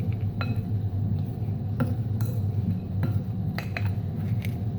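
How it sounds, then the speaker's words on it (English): Utensils clink and scrape against a bowl as ingredients for currant rolls are stirred together, with steady close clatter and a few sharper taps over a constant low background hum. "Mix it up real good. Combine your ingredients properly."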